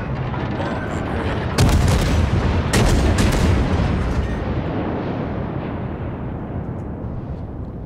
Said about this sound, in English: Pretty much try to carpet bomb the area.